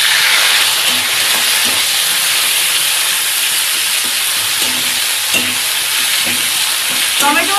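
Tomato and onion hitting tempered oil for a Bengali fish chorchori, giving a steady loud sizzle with spatula stirring and scraping throughout, no talk.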